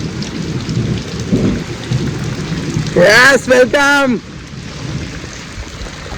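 Heavy first monsoon rain falls on a Konkan village in a steady, loud hiss with low thunderous rumbles, while a voice speaks briefly in the middle.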